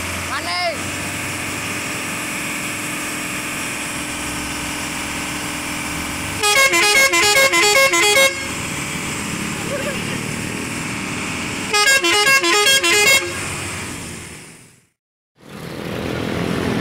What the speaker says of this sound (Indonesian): ini lagi ganti klakson telolet